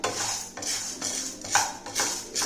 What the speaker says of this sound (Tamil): நான் எண்ணெய் போடாமல் தான் வறுக்கிறேன்.